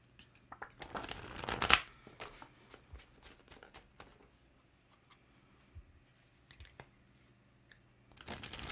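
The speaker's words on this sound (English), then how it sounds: "Mary Jane, I'm going to pull a card for you, my darling." Tarot cards being shuffled by hand before a card is pulled: a quick riffle burst early on, then soft intermittent card slides and taps, fairly quiet and close, with no talking.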